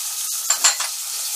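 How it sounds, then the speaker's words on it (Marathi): Finely chopped tomato tipped into a hot pan of sprouted mixed-bean usal and stirred, giving a brief hiss of sizzling with a couple of soft scraping bursts close by. "हा 1 टोमॅटो बारीक चिरलेला संपूर्ण टाकून घेणार"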